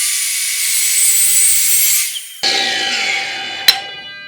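An Evolution R255 SMS+ miter saw cuts through black steel pipe, giving a steady high-pitched metallic whine with harsh grinding across the cut, a short break partway through, then resuming with a sharp clank near the end.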